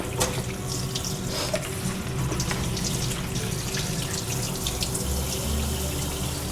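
Running tap water streams steadily into a kitchen sink as potatoes are rinsed, a continuous close splashing with no talk.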